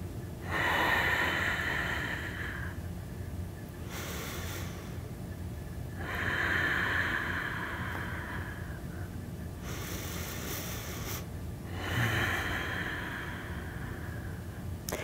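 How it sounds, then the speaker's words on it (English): Deep yoga breaths taken in and out during a seated twist, close and clear, with about three slow, even inhale-exhale cycles repeating every five to six seconds and no talking. "Deep breathing in and out."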